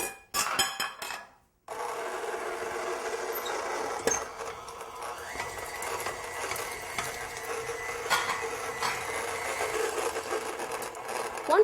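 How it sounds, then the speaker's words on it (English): Stand mixer creaming room-temperature butter and sugar for sugar cookies: a steady mechanical motor whir with a rubbing, rasping texture runs almost throughout after a brief opening clatter. "We're going to start by creaming our butter and some sugar together in a stand mixer."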